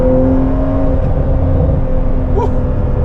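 A Porsche 911 engine hums steadily at close range as it accelerates, with a low rumble and a faint rising whine, with no voices over it.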